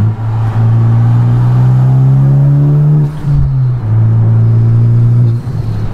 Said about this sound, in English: this car is very loud, and I don't even have a catless step. I have a catted downpipe with the MAPerformance street exhaust.